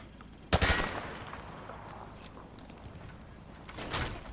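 Gunfire from a firing-range demonstration in Modern Warfare 2 Remastered, with a loud burst of shots near the start and another near the end, separated by quieter clatter.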